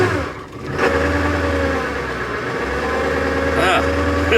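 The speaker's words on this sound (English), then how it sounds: "Alright, all the cylinders are running now." A cold-started school bus converted into a skoolie idles in winter, its engine running steady and close with a low continuous rumble, evening out as all cylinders fire; no one speaks.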